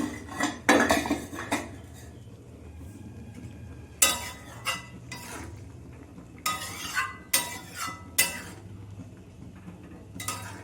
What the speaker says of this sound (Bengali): আমি এটা 5 মিনিটের মতো ঢেকে দেব।